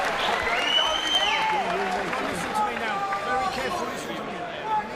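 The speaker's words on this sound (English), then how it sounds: "the Essex crowd are loving it" Boxing crowd at an Essex venue cheering and applauding after a round of a Tyson Fury versus John McDermott heavyweight fight, a sustained roar of voices and clapping that fills the whole stretch, with a commentator talking over it.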